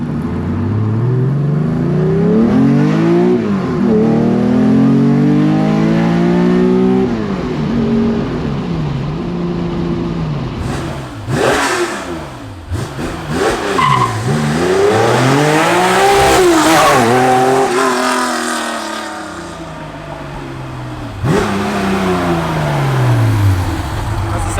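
A Nissan Skyline fitted with a new exhaust revs and accelerates repeatedly, pitch rising and falling through the gears to a higher, sharper tone at high RPM, loud and continuous throughout.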